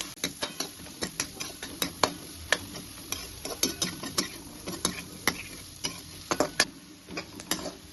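Finely chopped onions sautéing in a pan for paneer butter masala: a soft sizzle underneath repeated sharp scraping ticks of a spoon stirring, close and irregular throughout.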